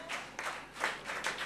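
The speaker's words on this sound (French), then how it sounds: "Est-ce qu'on peut applaudir, se lever, dire Amen à Dieu pour ce merveilleux message?" A church congregation applauds in bursts of clapping, fairly loud and spread across the room, with swells of cheering and no clear speech over the top.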